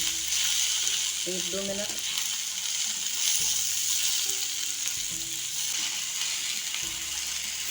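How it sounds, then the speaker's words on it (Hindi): Large chopped tomatoes and green chilies cook in a pan for bhindi do pyaza with a steady, soft sizzle, while someone speaks briefly over the frying. "ये बड़ा बड़ा कटा हुआ टमाटर डाल दिया है मैंने। इनको भी हम थोड़ी देर पका लेंगे"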